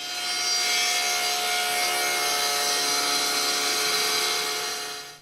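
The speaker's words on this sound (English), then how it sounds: "Now we'll make that pass, shaving off the edge of the board." A table saw shaves the edge off a wooden board: a loud, steady whining cut that holds evenly for about five seconds before trailing off at the end.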